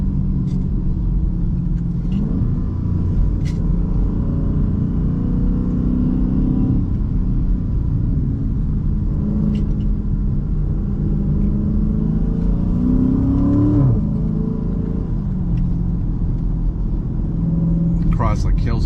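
Chrysler 300 SRT cruising up a winding mountain road in the hinterland, its exhaust a steady low rumble that swells and eases with throttle, heard from inside the car throughout.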